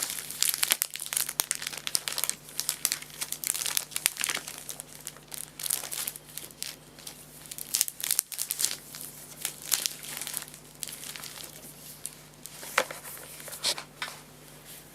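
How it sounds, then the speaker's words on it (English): Plastic pages flipped and crinkled close up, a steady run of crisp rustles and sharp crackles with brief pauses, no voices. "Not many people do plastic page flipping."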